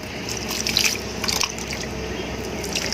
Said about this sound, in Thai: เราก็รดน้ำเปล่าตามไปอีกทีหนึ่งนะคะ